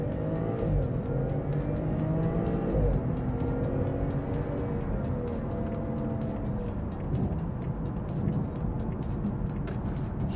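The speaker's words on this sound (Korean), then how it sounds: "여기에서 내가 고속도로를 진입하면서 그 속도에 맞추겠다 해서 풀악셀을 딱 하면" A BMW 540i xDrive M Sport (G30) in sport mode accelerates at full throttle onto a highway, its engine note rising steadily through the gears, heard from inside with no talk.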